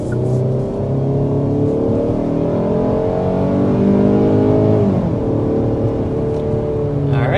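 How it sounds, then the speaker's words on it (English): A 2024 Hyundai Sonata hybrid accelerates hard up to 60 mph, its engine note rising steadily through the gears with a smooth continuous drone from inside the cabin. "there we are accelerating up to 60 miles per hour in this 2024 Hyundai Sonata"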